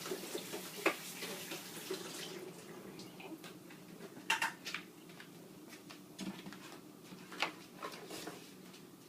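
Strawberries being washed under a running tap, a faint, quiet flow of water with soft splashes and a few sharper clicks and drips, heard close and without talk.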